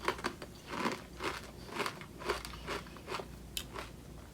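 Ruffles Double Crunch ketchup potato chips being bitten and chewed up close, a run of sharp loud crunches in an uneven rhythm, about ten distinct bites and chews.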